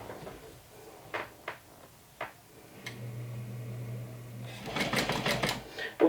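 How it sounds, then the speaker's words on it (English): A home sewing machine stitching a line around the U-shaped seam of a sling bag at an eighth-inch seam allowance, with a few clicks and knocks, then a steady hum and a fast rhythmic run of stitching toward the end. "I'm gonna go ahead and do a line of stitching around the U part, and I'm stitching with an 1/8 of an inch seam allowance"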